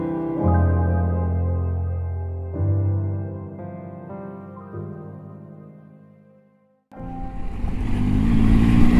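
A Triumph Tiger 800 XCA motorcycle rides over loose gravel. Its engine holds a steady, fairly loud drone that shifts pitch in steps, dips almost to silence, then returns as a rougher, noisier rush.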